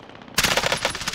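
Automatic gunfire in Warzone, the Call of Duty battle royale: a close, loud burst of rapid shots starts abruptly after a brief quiet moment and keeps going to the end.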